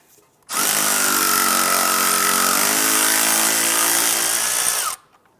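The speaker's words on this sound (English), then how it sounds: "I'm going to use a 10mm socket to remove the ABS line to the strut" A power ratchet or impact tool spins a 10mm socket to back out a bolt on the ABS line bracket at the strut of a 2001-2005 Honda Civic, one loud steady whir of about four seconds that rises slightly in pitch before stopping.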